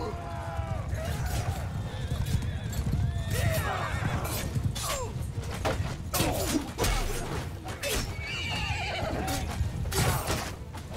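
Fast horses galloping and neighing in a Mount & Blade II Bannerlord battle, repeated whinnies over dense hoofbeats and clashing combat noise, with voices talking over the action.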